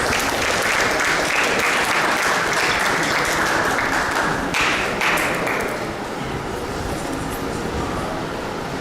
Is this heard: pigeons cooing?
no